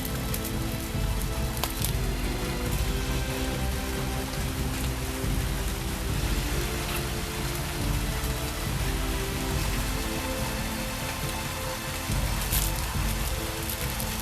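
Steady rain falls outdoors on a late-January day in a garden where mango trees are being air-layered, a dense continuous patter of drops on surfaces that holds at the same level throughout with no voices.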